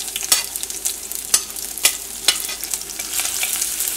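Garlic goes into a pan of hot oil with popped mustard seeds and roasted fenugreek, giving a loud, close, continuous sizzle with sharp crackles and stirring scrapes and no voices.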